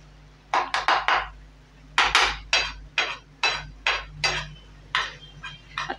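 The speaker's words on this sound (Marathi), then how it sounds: "आता ही इथेच अशी मॅश करून घ्यायची भाजी तव्यावर" A masher pounds pav bhaji vegetables on a small tava, giving sharp metallic clacks in quick irregular bursts of three or four, close and clear over a faint steady hum.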